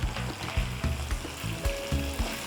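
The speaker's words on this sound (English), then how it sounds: "As I'm waiting for my protein to fry" Steady sizzling of meat frying in a pan, with a few soft rhythmic knocks and scrapes repeating throughout, close and fairly quiet.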